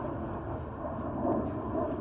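Steady wind rushing over an outdoor disc golf course, a broad, even blustery roar buffeting the microphone with slight swells and no voices.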